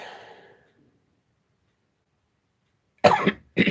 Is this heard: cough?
yes